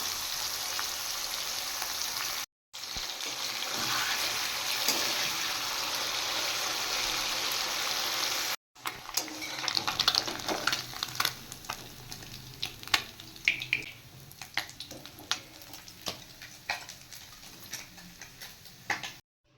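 Amudi fish, heads and tails removed, frying in hot oil in a pan: a loud continuous sizzle that breaks off twice, then crackling, popping spatter with sharp ticks.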